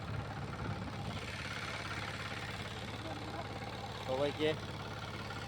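A 178-model heavy-duty power tiller engine runs steadily at a low, chugging idle throughout, with a person talking over it.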